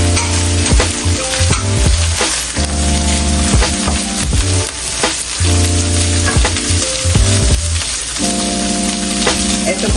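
Carrots added to leftover rice with hotdog or spam frying in a pan, a loud dense sizzle with crackling and stirring scrapes throughout, no talking.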